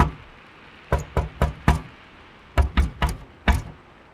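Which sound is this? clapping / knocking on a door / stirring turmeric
knocking on a door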